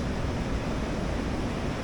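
Surf-sized ocean waves crash on a beach in a steady, unbroken roar of rushing water close by, with no voices.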